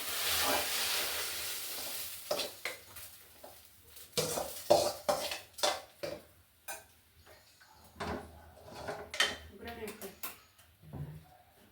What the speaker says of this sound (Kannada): ಈಗ ಒಗ್ಗರಣೆ ಹಾಕೋಣ